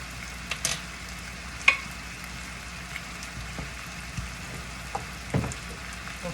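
Flour is stirred into a meat pie filling sizzling in a pan, giving a steady frying hiss with soft scraping stir strokes and a few sharper clinks, heard close and alone.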